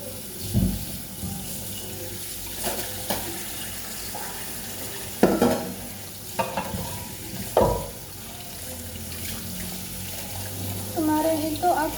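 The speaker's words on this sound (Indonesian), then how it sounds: "aku mau cuci dulu ya teman-teman" Peanuts are washed by hand in water, with intermittent splashing, sloshing and rattling of nuts against a container at close range, punctuated by a few sharper stirs over a faint steady background hum.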